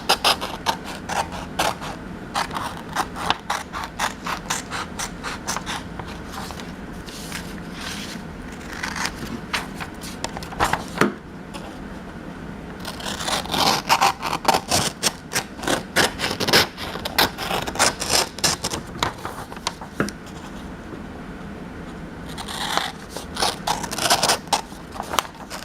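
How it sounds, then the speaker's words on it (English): Scissors cutting paper for a flip book, a steady close series of crisp snipping and scraping strokes with rhythmic blade clicks, continuing for around twenty-five seconds. "Try to cut it as straight as you can."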